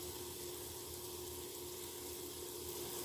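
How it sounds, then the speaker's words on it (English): Mushrooms sauté in a pan with a steady, even sizzle that holds at a constant low level, with a faint hum underneath and no talking. "we're going to start to saute"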